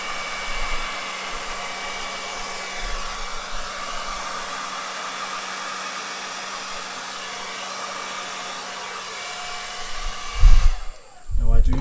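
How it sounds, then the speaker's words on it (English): A hair dryer on its lowest heat and fan setting blows steadily onto a painted canvas, a constant close whooshing hum for about ten seconds before a few louder bumps and rustles near the end; no speech. "I can't blow dry in different directions"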